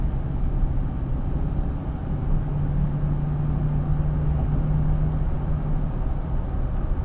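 The steady low engine drone of a 2001 Chevrolet Silverado running a junkyard transmission continues at an even level, with a faint tonal whine rising partway through as the truck shifts into fourth gear.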